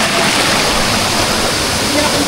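A small waterfall rushes loudly and continuously close by, a dense, even wash of falling water with no pauses.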